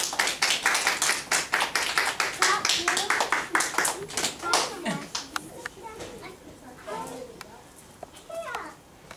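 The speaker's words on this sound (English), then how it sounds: "let's give him a round of applause" An audience in a morning school gathering applauds a guest speaker, Carl Lyons, with a burst of dense clapping that thins into scattered claps, while children's voices chatter underneath.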